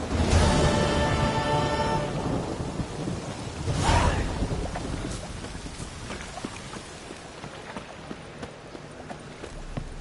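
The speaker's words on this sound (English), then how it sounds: "A storm, damn it." A thunderstorm in The Witcher 3, with a loud rumbling crack at the start and another burst a few seconds later, then a steady wash of rain and scattered clattering under it.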